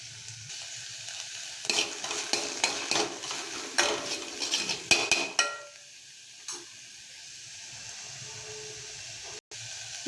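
Chopped fenugreek leaves and mint frying in a pan for an aloo paratha stuffing, with bursts of sizzling and scraping stirs for several seconds before the pan settles into a steady, softer hiss.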